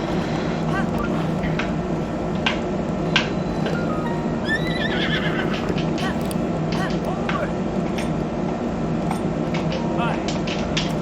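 A horse neighs and whinnies in the Zelda Breath of the Wild video game, over a steady bed of game ambience and background noise.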